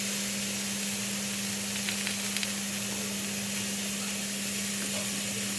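Vegetables grilling in a frying pan, with aubergine among them, give a steady, even sizzle that holds unbroken from start to finish under a faint low hum.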